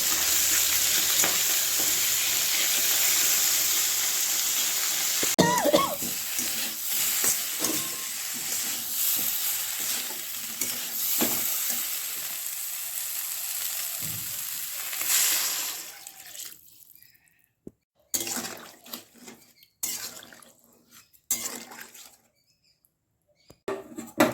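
Peas and potatoes cooking in a pressure cooker in a home kitchen, giving a steady loud hiss and sizzle that runs on and then breaks into choppy bursts with gaps of near silence.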